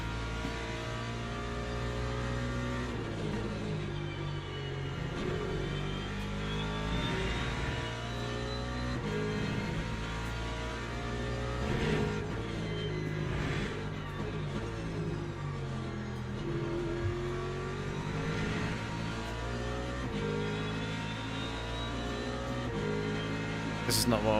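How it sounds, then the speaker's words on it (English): LMP2 prototype race cars in the Le Mans Ultimate game at Imola whine past with steady, loud engine revving and layered engine tones throughout, and a voice talks over the racing. "here comes LMP2s"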